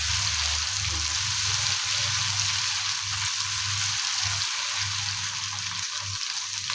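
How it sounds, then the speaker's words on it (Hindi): Ground garlic frying with softened onions in a pan for masala baingan, a bright steady sizzle crackling close by, with low stirring thumps underneath and no talking. "अब इनमें मैं 1 चाय का चम्मच पिसा हुआ लहसुन डाल दूंगी।"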